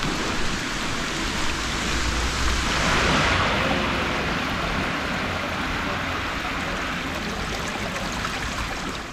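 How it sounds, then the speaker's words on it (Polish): Steady rain pours down on a street lined with lit palms, a continuous loud hiss and patter with no pause. "Pada, pada i pada."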